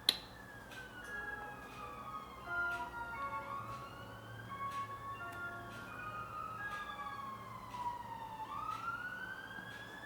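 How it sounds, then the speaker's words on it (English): A wailing ambulance siren sweeps up and down as it passes, loud and continuous for the whole stretch, with a faint background hum beneath. "It's like a freaking ice cream van going on with an ambulance."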